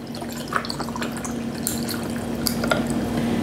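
Homemade tea pours into a glass with ice, a continuous close trickling and splashing with faint clinks, steady throughout.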